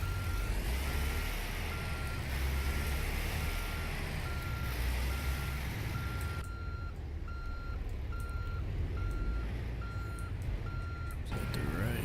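In American Truck Simulator, a truck backing up a trailer sounds a steady, evenly paced reversing beep over a constant engine drone. The beeping keeps going for the whole stretch, with no talking.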